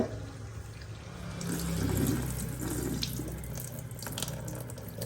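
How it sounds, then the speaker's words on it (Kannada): Running water swirls in a small bowl, a steady close splashing and sloshing as wheat semolina is rinsed by hand, rising slightly in the middle. "ಈ ರವೆಯನ್ನು ಕ್ಲೀನಾಗಿ ತೊಳ್ಕೊಳ್ಳೋಣ"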